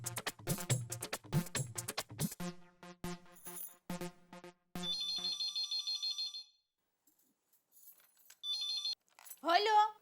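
A landline telephone rings in a household scene, a steady electronic warble in two bursts with a pause between, heard after an exchange of talk and followed by a voice answering.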